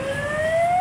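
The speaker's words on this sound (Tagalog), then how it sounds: "may wangwang na, nagwawangwang na" A siren wails near Manila Bay, a loud steady rising tone over low road rumble.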